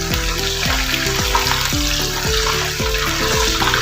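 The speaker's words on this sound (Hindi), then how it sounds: "तकरीबन 2 मिनट ही मैं इसको इस साइड से फ्राई करूंगी।" Kebabs sizzle and crackle steadily in a hot pan as they fry for a karahi dish. The sizzling is loud and close, and it continues evenly the whole time.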